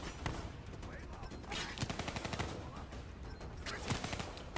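Dense, continuous gunfire in Call of Duty: Black Ops 3, a faint but busy clatter of overlapping rapid shots and thuds running throughout, with muffled voices mixed underneath.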